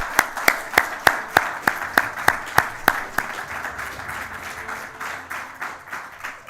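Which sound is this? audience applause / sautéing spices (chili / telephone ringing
audience applause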